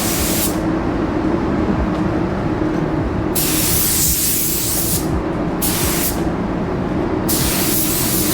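Spray gun laying a base coat of paint in close, continuous hissing bursts, several sprays broken by brief pauses over a loud steady background noise, with no voices.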